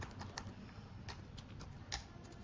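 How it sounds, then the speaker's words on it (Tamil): Soft, scattered key clicks come from a computer keyboard as someone types, faint and close, with no voices over them. "ஸோ இங்கே டைப் பண்ணிட்டு நான் டேப் பண்ண ஆட்டோமேட்டிக்காக அந்த"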